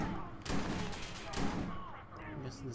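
Gunfire in the Watch Dogs video game: loud, close bursts of rapid shots in two main volleys with a short gap between them, over a busy, dense background.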